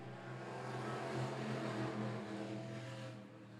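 Atlantic Modifieds race cars running a ten-lap heat rumble past as a sustained engine roar, swelling and holding at moderate distance before fading slightly at the end, with no voices over it.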